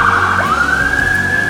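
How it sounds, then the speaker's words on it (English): Ambulance siren on a Las Vegas street, loud and close, with its wail sweeping upward and then holding a high steady tone. "Just go let this ambulance pass."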